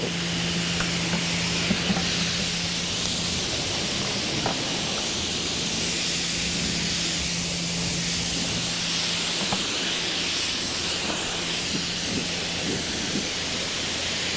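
Water sprays steadily from a hose nozzle to rinse a car's quartz coating, a loud continuous close hiss running throughout with faint background hum and small knocks, no talking.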